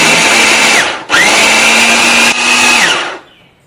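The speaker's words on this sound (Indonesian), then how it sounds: "Kemudian kita akan giling separuhnya lagi." Electric kitchen grinder grinding the second half of cooking ingredients, a loud high motor whine running in two close bursts with a brief dip between, then winding down to a stop.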